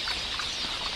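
A huge flock of quelea birds flaps its wings in a dense, continuous whirring rush, loud and steady throughout with no talk.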